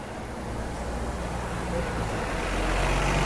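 A bus rolls along a busy Hong Kong street, a low diesel rumble building slightly louder amid steady traffic noise, heard from the pavement nearby.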